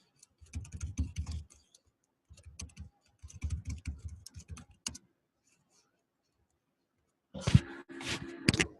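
Someone types on a computer keyboard in short bursts of rapid clicking keystrokes, close and moderately quiet, with pauses between bursts.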